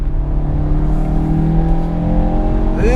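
A 2016 Mazda CX-3 Grand Touring engine revving high, between 5,000 and 7,000 rpm, under an automatic transmission, a loud steady droning whine heard from inside the cabin that climbs in pitch near the end.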